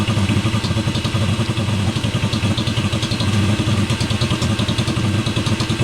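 A 35-year-old Eberspacher diesel heater salvaged from a skip runs while lit and smoking, giving a steady, loud, rhythmically pulsing combustion roar with a fine clattering texture throughout.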